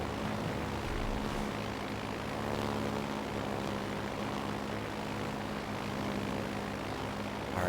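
Carrier aircraft engines drone steadily in World of Warships Legends, a loud continuous propeller roar with layered harmonic hum that holds for the whole stretch without a break, alone with no talk over it.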